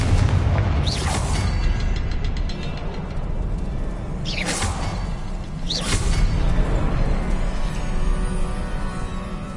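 Confringo fire spell blasts in the video game Hogwarts Legacy: three fiery whooshing bursts over a loud, dense rumbling game soundscape, each burst sweeping in and fading within about a second.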